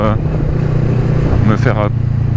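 A motorcycle engine hums steadily while riding with a helmet-mounted camera, a low droning tone running throughout as a voice talks over it.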